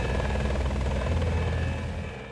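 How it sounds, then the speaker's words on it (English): MH-6 Little Bird military helicopters in flight, a loud continuous rotor thrum and engine whine that fades slightly toward the end, with no talking. "The commandos fly in on 4 MH-6 helicopters, known as Little Birds because of their small size."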